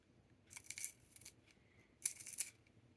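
A Pen+Gear pencil sharpener grinds a pencil in two short, faint bursts of scratchy shaving noise separated by a pause.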